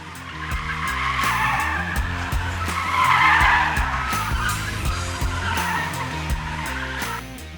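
A Mercedes-AMG A45 S hatchback drifts with sustained loud tire squeal and skidding over its engine roar, the screech swelling and easing as the car slides through the turn.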